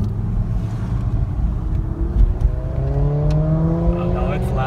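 Car engine revving loudly with its downpipe removed, rising harmonics climbing in the second half over rough broadband exhaust noise, with people talking nearby.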